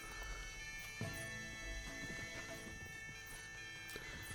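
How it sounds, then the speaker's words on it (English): Battle scene in the video game Mount and Blade: Warband, with clip-clopping horse hooves and faint neighing amid a busy, humming mix of combat sounds, fairly quiet and continuous. "we damaged someone's horse, possibly a friendly horse there"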